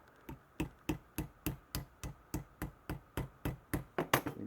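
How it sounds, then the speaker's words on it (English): A plastic hammer taps steel against a half-inch steel rod used as a horn, producing a steady series of about fifteen evenly spaced, sharp metallic knocks, close and moderately loud. "Use the plastic hammer."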